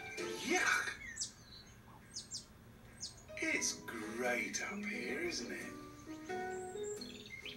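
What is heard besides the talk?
birds chirping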